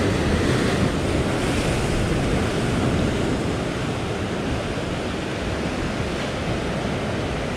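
Strong wind and breaking waves on a seashore during sea fishing for rockfish, a dense continuous roar of surf and gusting air buffeting the microphone, loud and steady throughout with no voices.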